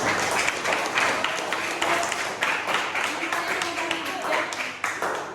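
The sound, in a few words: class clapping hands applause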